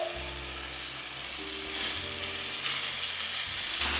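Mutton with fresh ginger and milk solids sizzles steadily in a hot pan, a continuous crackling fry with occasional stirring, close and even throughout, no talking.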